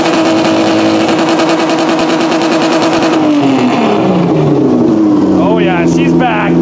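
A home-built half car engine runs loud and close, its rough, steady drone shifting pitch as it revs up and down, with voices faintly mixed in near the end.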